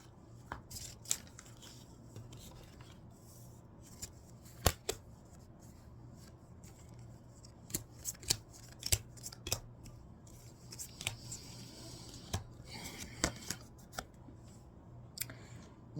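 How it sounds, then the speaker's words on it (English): Tarot cards handled during a reading, a quiet series of crisp, irregular snaps and flicks from drawing and shuffling, scattered over a low steady hum. "give me a second to draw my cards"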